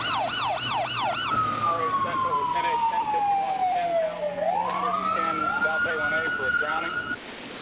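A wailing siren sweeps up and down, then shifts to a long falling and rising wail, loud and close with traffic noise beneath.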